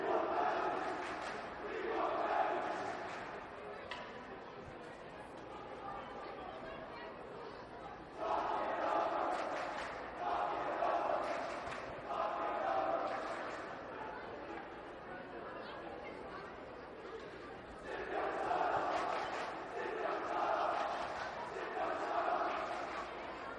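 The Fairfield Prep Jesuits student section at a high school hockey game chants and cheers in rhythmic waves from a distance, recurring bursts of crowd voices over the arena's steady hubbub.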